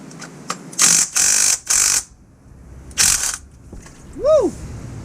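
A transmission drain bolt on a BMW E46 M3 is loosened, apparently with an air gun, giving several short, loud mechanical bursts up close, separated by pauses, with a brief squeaky tone at the end.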